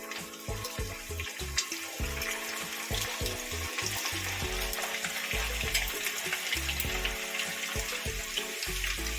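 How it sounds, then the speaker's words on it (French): Anchovy fish balls frying in oil make a quiet, even bubbling hiss with soft pulsing underneath, heard alone from nearby. "On met les boulettes à frire."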